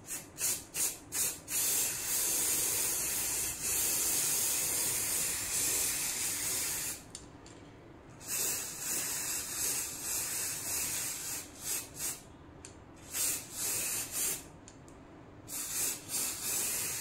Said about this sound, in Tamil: இப்போ வந்து இந்த கோல்டு ஸ்ப்ரேவை தான் நம்ம பண்ண போறோம் இந்த ஃபிளார்ல